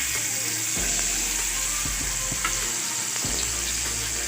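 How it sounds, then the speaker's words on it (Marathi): Poppy-seed-coated bombil fish fries in hot oil with a steady, close crackling sizzle, broken by a few sharp clinks and scrapes from a utensil against the pan; no voices. "असं खसखसमध्ये बुडवायचं आणि तेलात टाकायचं तेल तापले"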